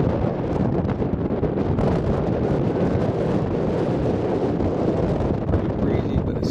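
Strong wind buffets the microphone at Sebastian airfield during a light aircraft flight, a loud, continuous rumbling roar with gusty surges throughout, close and steady.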